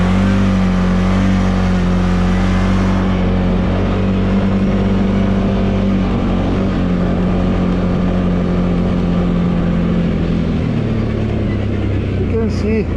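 A 2023 Segway Snarler AT 5L rear-wheel-drive ATV drifting, its engine droning loud and close at steady revs with a pitch drop near the end, while a rider talks over it.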